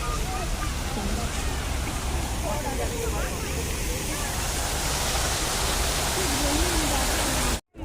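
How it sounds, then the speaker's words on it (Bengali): A fountain at Eco Park in Kolkata sends out a steady, dense rush of falling water, with a faint murmur of crowd voices mixed into the constant wash. "দেখো ঝর্ণা"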